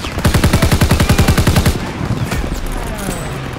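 Sustained burst of rapid automatic gunfire from a WWII battle in Call of Duty WWII, a loud, evenly spaced rattle of shots for nearly two seconds, then fading into rumbling battlefield noise.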